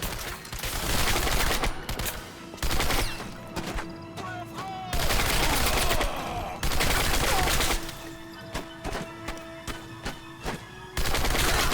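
Gunfire in Turning Point: Fall of Liberty, an Xbox 360 shooter from 2008, comes as loud repeated bursts of rapid automatic fire and volleys separated by short pauses, with game sounds between them.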